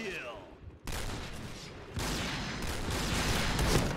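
Rapid gunfire in the Point Blank video game's sniper mode: a loud, dense stream of shots that cuts in sharply and keeps going without a break.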